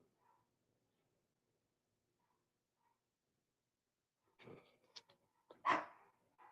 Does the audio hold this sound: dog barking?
yes